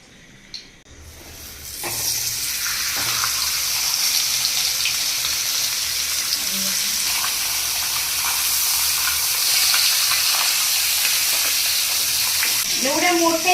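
Tilapia fish frying in oil on a tawa, a loud, steady sizzle that swells after the fish goes in and continues close up throughout.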